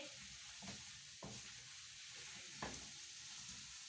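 Potatoes fry slowly in butter in a pan for a potato milk handi, giving a steady, soft sizzle with a couple of faint stirring scrapes; no talking.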